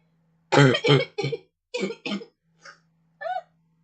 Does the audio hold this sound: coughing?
yes